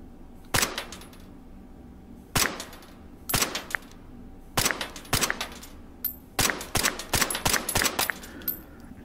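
Integrally suppressed rifle fired on semi-auto in a VR shooting game, a series of sharp, close, clipped shots coming singly and in quick bursts, growing faster toward the end.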